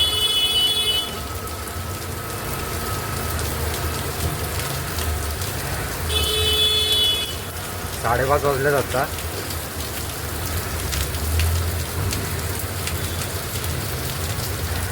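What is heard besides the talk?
rain falling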